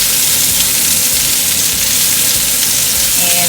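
Pork meatballs sizzling and frying loudly in a pan, a steady dense hiss with crackling and occasional stirring scrapes, close and continuous with no talking.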